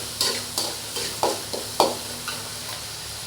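Tomatoes and onions sauté in a pan under a steady hiss, broken by regular spatula strokes about twice a second, scraping and tapping close by with no voices.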